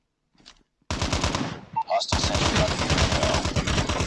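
A deployed gun turret in the mobile game Call of Duty Mobile fires long rapid bursts of automatic gunfire, loud and continuous after a brief pause, with a short break partway through.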